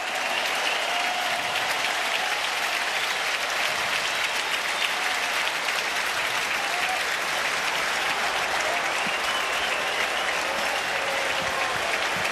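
A large baseball crowd at Yankee Stadium cheers and roars in a steady, dense wash of noise, the Yankees hosting the Angels with a runner reaching scoring position in the eighth inning, with no talk over it.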